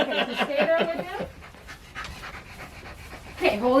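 A dog panting rapidly and loudly close by during a grooming bath, quick rhythmic breaths in bursts with a quieter stretch between, and a person speaking faintly underneath.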